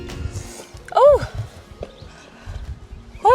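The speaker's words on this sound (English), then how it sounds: "Horses!" Horses on a forest path, hooves thudding softly while a horse lets out two loud whinnies, one near the start and one at the end, with people's voices and movement around them.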